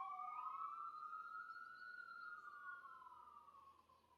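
An emergency siren wails continuously in the distance, a single sweeping tone rising and falling slowly and steadily behind a noisy background with no talking.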